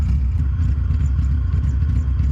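A stock Honda D16 engine idles at about 1,000 rpm, a loud, low, steady rumble with a faint clattery texture and no talk over it.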